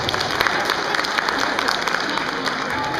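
Audience at a pet show stage performance applauds, dense steady clapping from a crowd filling the whole moment, fairly near and even.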